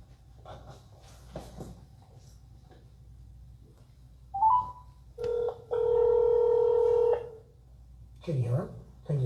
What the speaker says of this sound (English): I will dial your number